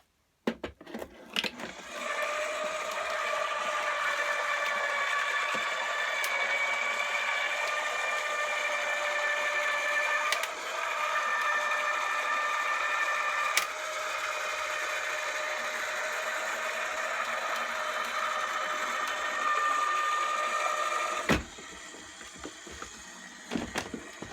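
A Cut 'n' Boss die cutting machine feeds a stack of plates, a magnetic shim, cardstock and a die through its rollers. It makes a steady whirring mechanical drone for about twenty seconds, broken by a few sharp clicks and ending abruptly.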